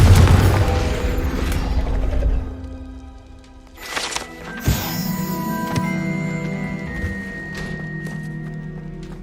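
A Confringo fire spell cast in Hogwarts Legacy bursts with a loud booming blast, followed by mechanical whooshes and thuds as the effect plays out, with no voices.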